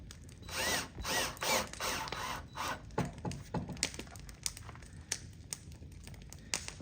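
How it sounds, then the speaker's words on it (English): A power drill drives 1-inch number 6 screws into countersunk holes on a wooden straight-edge jig, with several whirring bursts of varying length, close and loud, followed by quieter handling clicks. "we're going to stick our screws in"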